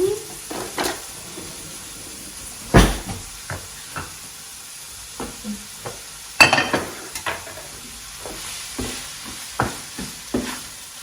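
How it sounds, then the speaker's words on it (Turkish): Rice sautéed in butter in a pan at home, with a steady soft sizzle broken by irregular spoon scrapes and knocks against the pan, some louder clatters standing out. "Bir de e, tereyağı koyacağım. Öyle kavuracağım."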